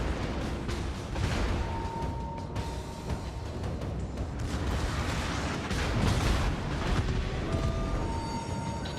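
Heavy warship gunfire from the battleship Missouri in World of Warships, a dense, continuous roar of booming shots and rumble that stays loud and thick throughout with no clear gaps between blasts.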